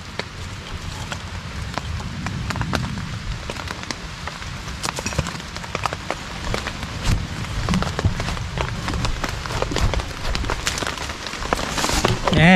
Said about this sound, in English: the rain is coming down, but I am well protected